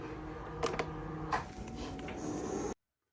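A Cricut machine with a fine point blade cutting paper flower shapes: a close, quiet mechanical whir with a few sharp clicks and carriage movements, then an abrupt stop into silence.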